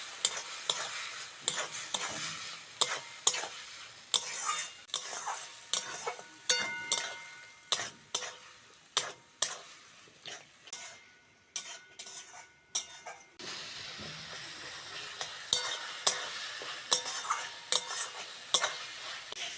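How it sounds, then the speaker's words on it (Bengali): Chili powder, turmeric and salt masala for a village-style shimul fish curry is stir-fried in a pan, with a steady rhythm of spatula scrapes and clinks over a soft sizzle, close and clear, no voices. "এবার মশলাটা ভালো করে কষবো"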